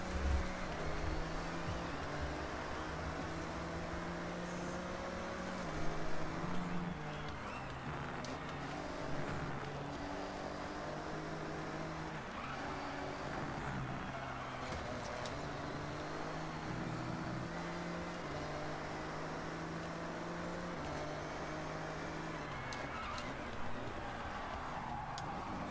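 A Mazda Miata racing in a video game, its engine a continuous droning hum that rises and falls in pitch as it shifts and corners, heard steadily throughout at moderate level.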